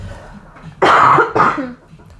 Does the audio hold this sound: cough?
yes